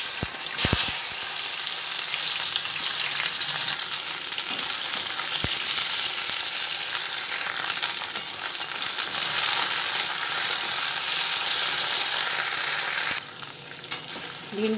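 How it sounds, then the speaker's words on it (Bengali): Okra fries lightly in oil in a wok, giving a steady, even sizzle with occasional soft stirring knocks, close and unbroken, with no talking. "হালকা করে ভিন্ডিগুলোকে আমি ভেজে নেব।"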